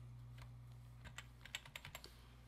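Typing on a computer keyboard: quiet, irregular keystrokes that start sparsely and then come in a quicker cluster near the end, over a steady low electrical hum.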